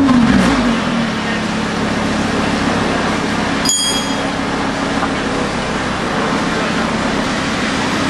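A Lamborghini fitted with snow chains pulls away, its engine roaring loudly and steadily close by as the car moves off, with a sharp metallic clink partway through.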